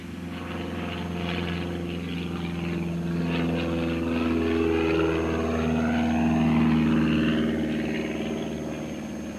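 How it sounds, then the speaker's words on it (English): A light propeller aircraft taking off gives a steady, droning engine hum that swells gradually in loudness over the whole stretch, with no talking. "it's takeoff time on the last leg of the flight"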